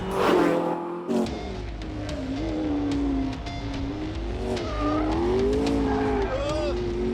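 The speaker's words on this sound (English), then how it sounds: "It's spinning its wheels in sixth." A car spins its wheels in sixth gear, a loud sustained engine drone rising and falling in pitch with tyre squeal, heard close throughout.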